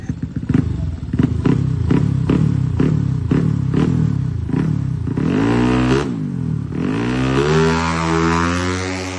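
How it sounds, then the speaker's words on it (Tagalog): A motorcycle burns out a brand-new rear tire during a drag-racing road test. The engine revs hard in rapid repeated bursts, then the pitch sweeps up and down through long wailing revs, loud and close. "binaburnout ng rider natin yung gulong kahit na bago para mas lalong kumapit"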